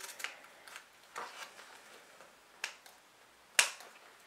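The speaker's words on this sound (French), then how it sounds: "Donc on découpe en premier nos angles" Scissors snip the corners of fabric pieces for a sewn pouch, a handful of quick, crisp cuts at uneven intervals, close and fairly quiet, with the last snip the sharpest.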